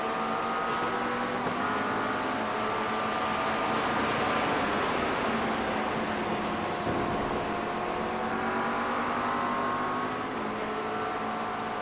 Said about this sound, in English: Them McLarens are so loud.